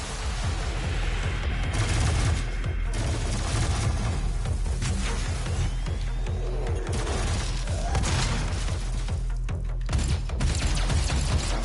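Gunfire in the video game Doom comes as dense, loud bursts of rapid shots and booming impacts, almost unbroken, with mechanical clanks mixed in and no voices.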